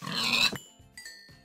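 A pig from the Minecraft video game grunts, one loud close squealing grunt followed by two shorter, fainter grunts after brief silences.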